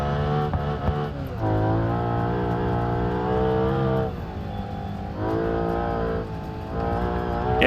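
A car in BeamNG Drive on the gravel Pikes Peak hill climb drops down through gears, its engine note rising and falling in revving pulls with brief pauses between shifts, loud and close.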